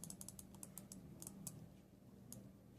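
Button clicks from a Cooler Master Storm Devastator gaming mouse, a rapid run of sharp light taps close up, coming in quick clusters with short pauses, alone.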